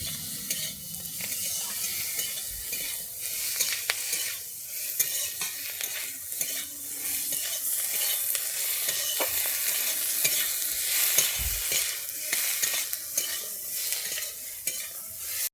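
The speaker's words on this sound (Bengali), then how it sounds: "হলুদ দিয়ে আমি টমেটোটাকে ভালো করে ভেজে নিচ্ছি" Chopped tomato fries with turmeric in a pan for a Bengali mourola fish and potato curry, a steady close sizzle with constant scraping and stirring strokes throughout.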